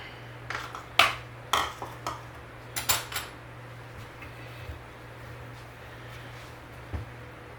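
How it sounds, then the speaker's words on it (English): Pineapple sweet bread ingredients are mixed in a bowl, with a handful of sharp clinks and taps of a utensil against the dish, spaced irregularly over a low steady background hum. "Okay, and we're supposed to mix all that up."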